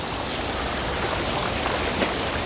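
Sea waves wash around a wader at a secluded beach in Oriental Mindoro, a loud, continuous close rush of churning water with no distinct breaks.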